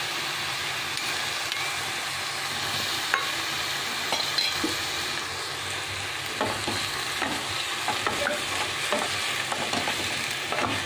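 Okra and mushroom curry being stirred in a pan, a steady close sizzle broken by intermittent scraping and clinking strokes of the spoon, with no voices.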